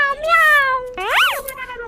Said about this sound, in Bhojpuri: ये बिलाई कहाँ बोलती है रे?